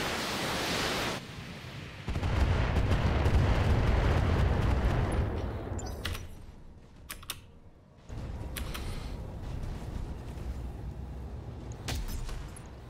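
Missile salvo slamming into an Annihilator mech in the BattleTech video game: a dense, roaring barrage of explosions that swells loud for several seconds, breaks off, then resumes as a lower rumble with sharp cracks.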